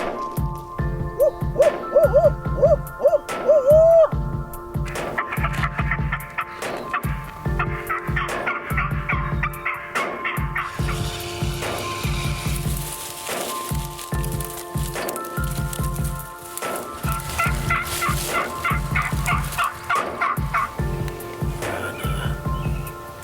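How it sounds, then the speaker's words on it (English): Wild turkeys gobble repeatedly in a spring woodland, loud rolling gobbles coming in rhythmic bursts throughout, with an owl-like hoot early on and no talk. "We heard a turkey gobble to the north of us."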